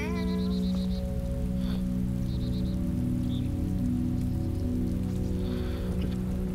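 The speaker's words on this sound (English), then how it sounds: "Why is it always raining, Dad?" Steady rain patters over the open landscape of DayZ, a dense constant hiss under a low droning hum, with faint chirps and clicks now and then and no voices.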